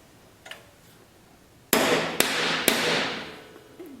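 A metal tool rolls over an eyelet seated on a mandrel while riveting an EH Scott Philharmonic radio chassis: three sharp, ringing metallic strikes, close and loud, with brief decays between, after a quiet start.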